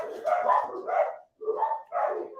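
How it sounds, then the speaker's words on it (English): Several dogs bark in a few short bursts, fairly loud and close, with a brief gap midway and no talk over them. "There goes the dogs again."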